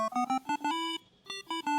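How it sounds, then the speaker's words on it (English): Dry lead patch on an Arturia MiniFreak synthesizer with its effects switched off, playing short bright notes in a quick melodic run with a brief pause, clear and alone. "So without the effects it sounds like this."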